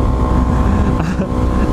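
Motorcycle exhaust heard from inside a carbon fiber Ruroc Atlas 2.0 helmet while riding, a steady loud low drone blended with wind rush, with no clear gaps.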